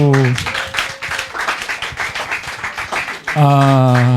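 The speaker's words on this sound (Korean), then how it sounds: "박수!" A church congregation breaks into brisk clapping between a preacher's loud spoken lines, the applause filling the middle few seconds before the voice cuts back in.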